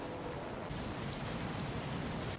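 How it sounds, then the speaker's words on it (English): Heavy rain pours down at the Spa circuit in the F1 2016 racing game, a dense, continuous hiss of rain on surfaces holding steady throughout, with no talk. "Just listen to how heavy it's raining out there."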